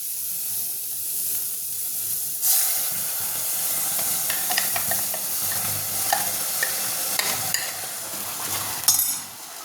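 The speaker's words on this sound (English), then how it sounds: "Stir the masala for some time." Mutton masala paste sizzles and fries in a pan, a steady hiss and crackle under repeated close scraping strokes of a spoon, with a sharper burst of sizzle when the paste goes in.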